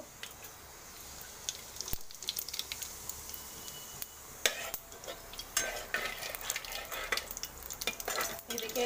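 Mustard seeds and cumin crackle in hot oil for poha, a busy sizzle dotted with sharp popping bursts that grow denser and louder toward the end, alongside occasional utensil scrapes and no speech.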